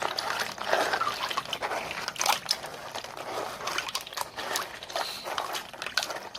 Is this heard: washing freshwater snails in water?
yes